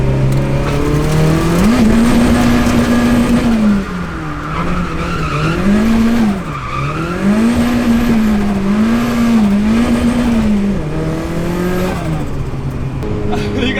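A Nissan S13 drifts at night with its engine held near the limiter in second gear, a loud sustained wavering roar rising and dipping repeatedly alongside tire squeal, close and continuous.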